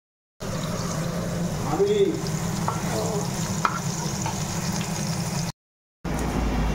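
Bitter gourd fries in a pan with a steady close sizzle and occasional stirring scrapes, the hiss broken by a short silence near the end.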